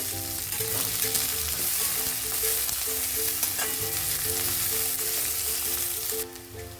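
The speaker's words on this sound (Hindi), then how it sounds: "ऑनियन को पहले हल्का ब्राउन करते हैं।" Chopped onions fry and brown in a hot kadhai, a steady close sizzle with light scraping stirs running throughout.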